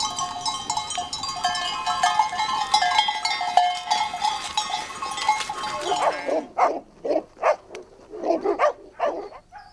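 Can de Chira sheepdogs, a small herding breed of about 12-13 kilos, bark in a series of sharp, repeated yaps, following a stretch of bleating livestock and clanking bells.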